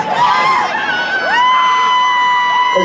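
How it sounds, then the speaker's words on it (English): Loud crowd at a live country concert in Myrtle Beach, South Carolina, with sustained cheering, whoops and shouts filling the space, swelling near the middle and staying dense throughout. "I know it's a loud crowd"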